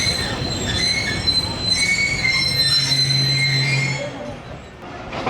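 Hazara Express pulling out of Sadiqabad station in Punjab, steel wheels squealing with high sustained screeches over a steady low rumble of rolling carriages, loud and close, easing off near the end.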